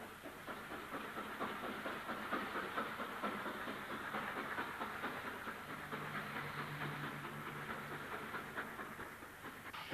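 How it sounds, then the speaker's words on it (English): LMS steam locomotive 45202 pulling parcel stock out of the Bury Line platforms in a cloud of steam, a steady loud rumble with hissing steam and rhythmic wheel clatter running throughout. "45202 of Newton Heath takes out parcel stock from the Bury Line platforms in a cloud of steam"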